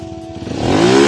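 A 2001 first-model CDI motorcycle engine revs up through its exhaust, with one quick, loud rise in pitch heard up close.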